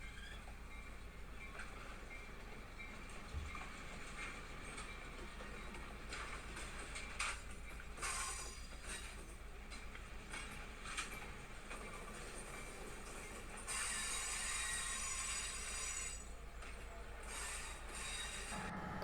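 Excursion train rolling along rails on Cape Cod near the canal, a steady, distant rumble with faint clicking wheels and occasional squeal-like brightening, continuous throughout.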